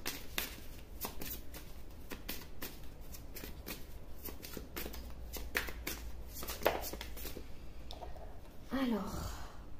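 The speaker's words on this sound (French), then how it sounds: "on me dit de brasser encore" Playing cards being shuffled during a tarot-style card reading, with repeated soft riffling and rustling bursts at close range, quiet overall, with occasional breaths and small vocal sounds.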